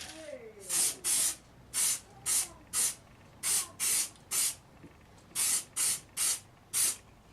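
Aerosol primer sprayed onto gun hand guards in bursts, about a dozen short hissing blasts of roughly half a second each, close and loud, with brief quiet gaps between them.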